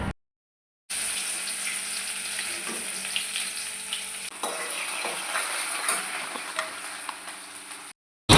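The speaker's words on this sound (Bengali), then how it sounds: "আরও কয়েকটা ছিল, ওইগুলোও ভেজে নিচ্ছি।" Red amaranth leaf pakoras with chopped potato, onion and green chilli frying in hot oil, a steady close crackling sizzle with small pops and occasional utensil clinks, framed by brief silence at both ends.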